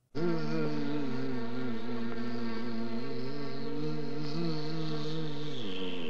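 A dense, steady buzzing of bees, close and loud, droning continuously with slight wavering in pitch throughout.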